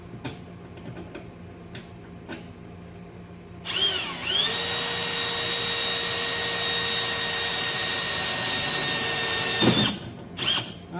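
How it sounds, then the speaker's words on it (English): A power drill bores a hole in a windshield washer reservoir, first a few light ticks, then the motor whines up to a loud, steady spin for about six seconds before stopping abruptly. "let's see if this will drill a hole."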